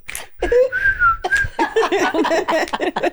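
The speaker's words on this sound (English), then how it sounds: "I'm gonna blow the whistle." A person whistles a tune, with a long sustained note followed by a quick run of short melodic notes, close and clear, and a brief laugh at the start.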